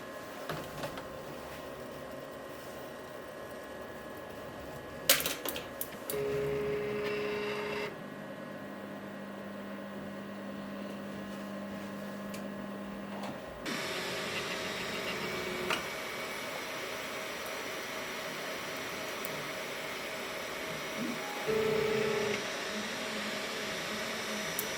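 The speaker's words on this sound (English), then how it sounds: "Then we can take it over to the printer and print it as per normal." An Elegoo Neptune 4 Pro 3D printer running a print, with steady fan whir and stepper-motor whines that shift pitch between moves, plus occasional soft clicks; quiet, close and unaccompanied by speech.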